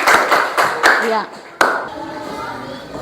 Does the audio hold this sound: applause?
yes